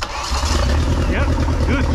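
A boat engine starter cranks and whirs with a rough, grinding mechanical drone, close and loud, continuing throughout without pause.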